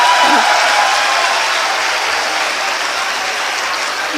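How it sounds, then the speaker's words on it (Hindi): Loud, dense audience applause at a poetry recital, steady and unbroken throughout, a full crowd clapping close by with a faint voice briefly audible at the start. "एक बार इनके सम्मान में आप तालियां बजा दीजिए"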